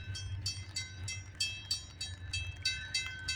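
A CN freight train passes at Pefferlaw Road, milepost 55.56, with a steady low rumble and a string of sharp metallic clicks and squeals from the wheels, moderately close and without talk.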